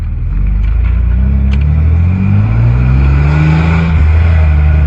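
Car engine idling and revving through a single exhaust with dual mufflers, a loud, close, subdued low rumble with a slowly rising rev tone and no talk.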